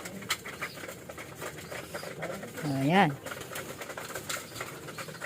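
Racing pigeons in a loft in La Union give a soft cooing call amid faint rustling and flapping, heard close but low, with a person speaking briefly nearby.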